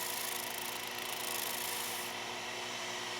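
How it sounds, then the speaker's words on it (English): A scraper shear-scraping a dried, out-of-round wooden bowl spinning on a lathe, giving a steady, continuous rubbing rasp close by with a constant low motor hum beneath. "we're just going to shear scrape this very gently into the highest spot of the bowl"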